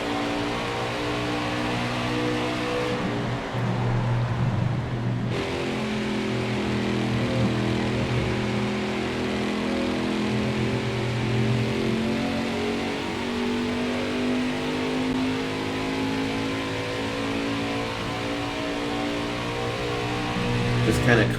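Stock car engines racing in NASCAR Heat 5 during the Gateway 250 playoff race, a continuous droning roar with rising and falling revs as cars pass, steady and loud throughout.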